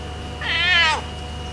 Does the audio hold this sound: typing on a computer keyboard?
no